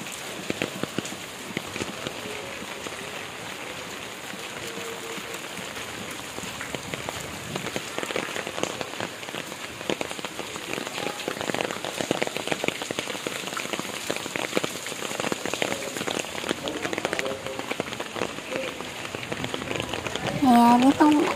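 Steady rain patters on surfaces all around while someone walks outdoors toward a school, a dense continuous hiss of drops growing slightly louder, with faint footsteps mixed in.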